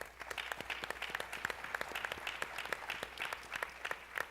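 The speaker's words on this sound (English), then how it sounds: "Please give Wendy a round of applause" Audience applause at an education summit, a steady patter of many hands clapping at moderate volume for about four seconds with no voices over it.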